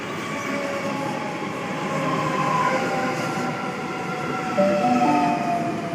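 A Melbourne M set electric train pulls into platform 3 at Flemington, a loud steady rumble of wheels and motors with squealing brake tones rising as it slows, no talk.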